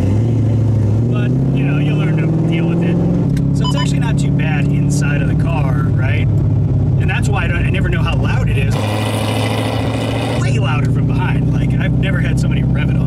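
A loud Corvette with a 376 cubic inch engine revs inside a car, its engine roar rising and holding through the stretch while people talk over it.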